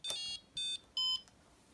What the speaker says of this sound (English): Once I press the third channel again, you can hear the buzzer.